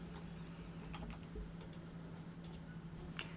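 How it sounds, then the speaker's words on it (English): A computer keyboard's X key is tapped repeatedly in light, quiet clicks at irregular intervals over a steady low hum, while a paint brush is switched in image-editing software. "I've got my finger on X on the keyboard and I'm simply swapping between a black brush and a white brush"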